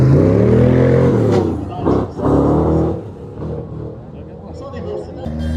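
Aston Martin racing car at a hill climb festival, its engine loud and close as it drives past and fades, with someone talking over it.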